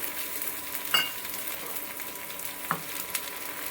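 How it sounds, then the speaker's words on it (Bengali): Chopped onion and tomato crackle and sizzle in hot oil with sugar, bay leaf, green chili and cardamom, with a couple of sharp clinks from stirring over the steady fry, close up and with no voices. "তেলটা গরম হয়ে গেছে চিনি তেজপাতা কাঁচা লঙ্কা এলাচ দিয়ে দিয়েছি এবার আমি দিয়ে দেব পেঁয়াজ কুচি আর দিয়ে দেব টমেটো কুচি"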